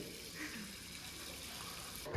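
Water runs from a tap in a steady, quiet broadband rush that continues throughout, with no clear talk over it.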